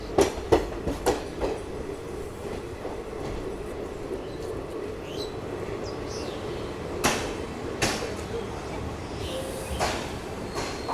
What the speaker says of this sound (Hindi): ये देखो यहाँ से पुरी अहमदाबाद का डिपार्चर हो गया